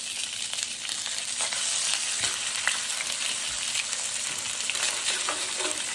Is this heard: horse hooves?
no